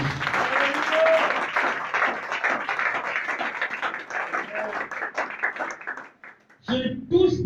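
A church congregation applauding and cheering for the Lord during a French-language sermon, a sustained dense wash of clapping that fades near the end before a brief voice cuts in.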